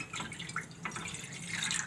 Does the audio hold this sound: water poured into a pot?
yes